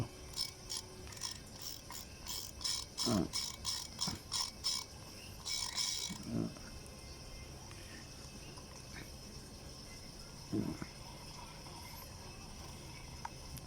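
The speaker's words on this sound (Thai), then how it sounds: "โรลเลอร์ยังยังหมุนทำงานอยู่ คลิกเสียงมีครับคลิกเสียง" A Daiwa fishing reel, an older vintage-style spinning reel, clicks as it is turned, with a quick run of light ratcheting ticks at the start and a few scattered thumps afterward, close up with no voices.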